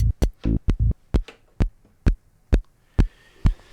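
A punchy kick drum hits repeatedly, about ten strikes in a steady, slightly uneven rhythm, loud and dry with no other sounds.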